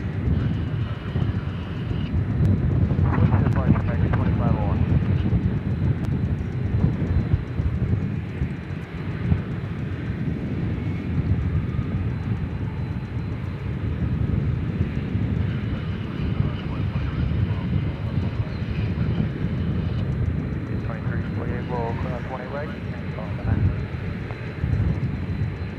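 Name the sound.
airplane landing at DFW Airport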